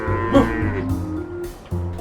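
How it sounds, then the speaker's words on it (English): Several cows loose in a garden low and mooing, with a strong moo near the start and another building near the end, close and clear with no talk over them. "There is a cow in the garden, Violet."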